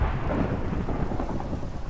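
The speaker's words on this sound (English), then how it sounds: "there's so much thunder outside." Heavy thunder rumbles continuously outside during a storm, deep and loud, with rain hissing underneath throughout.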